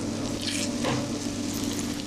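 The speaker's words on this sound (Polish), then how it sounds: "Smażymy naszego kurczaka." Chicken pieces frying in hot olive oil in a home kitchen, giving a steady, close sizzling hiss with faint crackle throughout and no talk.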